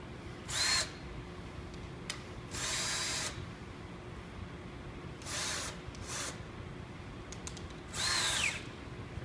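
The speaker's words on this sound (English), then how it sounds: "And we want to enlarge the hole." A power drill runs in four short bursts, each a second or so long, opening up a hole in a phone mount for a standard camera tripod, close by against a steady low hum with no talk.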